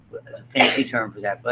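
A single sharp sneeze bursts out mid-lecture in a biology class, loud and close, with a lecturer's talk continuing before and after it.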